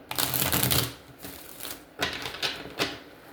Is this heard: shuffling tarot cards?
yes